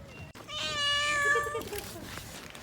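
A small cat gives one drawn-out, clearly pitched meow up close, with outdoor background noise around it at a Beijing tourist site.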